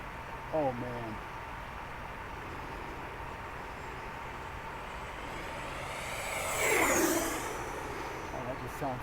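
An FPV model airplane flies past, its thin whining motor rising in pitch as it approaches and falling away after passing close by, over a steady outdoor hiss with a brief voice at the start.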